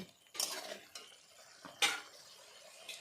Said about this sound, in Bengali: ভালো করে নেড়ে চেড়ে মাছগুলোকে একটু মিশিয়ে দিতে হবে